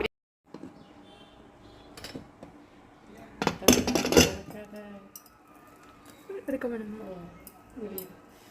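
A spoon stirring egg biryani in a cooking pot, soft scraping and clinking of metal against the pot with a louder clattering burst midway, while someone talks over it.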